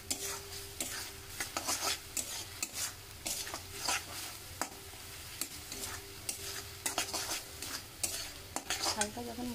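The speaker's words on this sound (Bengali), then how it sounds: "আমি এইভাবে মশলাটাকে আস্তে আস্তে ভালো করে কষিয়ে নেব।" Masala spices for a crab dish fry in a pan while a utensil stirs and scrapes them in repeated strokes over a steady low sizzle.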